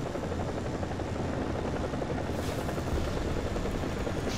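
MI-35 attack helicopter in War Thunder, rotor and engine drone holding at a constant moderate level throughout, with a broad whoosh rising briefly midway.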